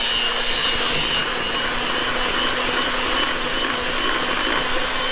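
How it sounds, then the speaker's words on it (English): Four eggs being mixed for an Easter brunch recipe, most likely by an electric mixer, giving a steady, close mechanical whir with a constant hum that runs unbroken throughout. "All right, we're gonna mix those 4 eggs."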